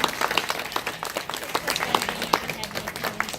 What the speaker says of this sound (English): How about a nice round of applause for Brianna Barron?